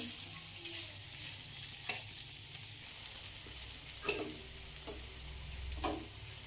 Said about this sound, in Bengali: এবার এর মধ্যে দিয়ে দিচ্ছি কেটে রাখা পনির। এগুলো হালকা ভেজে নেব।